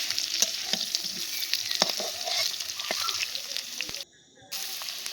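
Ingredients for a rohu fish curry with tomato and bitter gourd sizzle loudly in a pan while being stirred, with scraping clatters over constant frying and a brief drop in sound near the end.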